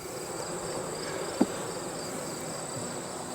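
Bees from a storm-damaged hive drone in a steady, even buzz throughout as a box is opened, with one brief sharp tap partway through.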